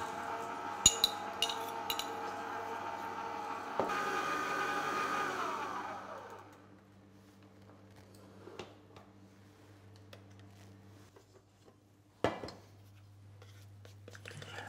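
Electric hand mixer beating surface flour into dough for a Quercy-style coque, a steady whirring drone in the first few seconds that winds down, followed by faint clinks and quiet handling.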